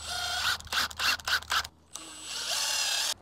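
A power drill drives a screw into a privacy fence rail, giving several short whirring bursts in quick succession, then a brief pause and a longer steady run, heard up close.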